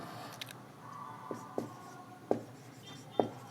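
Pen or chalk scratches out a geometry theorem statement in a quiet room, several short distinct strokes separated by pauses.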